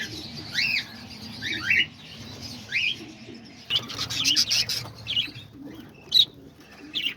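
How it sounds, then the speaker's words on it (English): Parakeets in an aviary shared with lovebirds, cockatiels and diamond doves give short, bright chirps in scattered bursts, some close and sharp, over a low background hum. "And here's all the parakeets."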